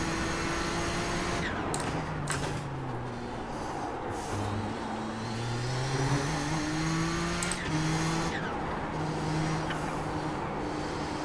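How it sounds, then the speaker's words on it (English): A Nissan ZX-T GTP race car in iRacing drones steadily as its engine pitch rises and falls, with a few short hissing bursts from the blow-off valve cutting through. "I love that blow-off valve sound."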